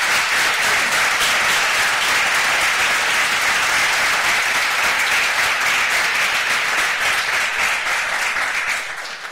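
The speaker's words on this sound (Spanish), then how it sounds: "quiero pedir un fortísimo aplauso de todo el auditorio" Loud, sustained applause fills an auditorium at a lecture on anomalous phenomena by Jacques Vallée, dense clapping from a large audience that holds steady for nine seconds before tapering slightly at the close.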